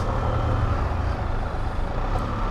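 A large vehicle rumbles steadily nearby, a heavy low engine drone that holds constant without breaks.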